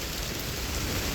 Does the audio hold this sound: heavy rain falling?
yes